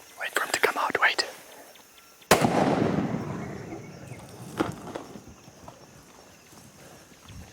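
A single loud rifle shot fired at an elephant during a Zimbabwe hunt, a sharp crack with a long rolling echo that decays over several seconds, while hushed whispers come before and after it.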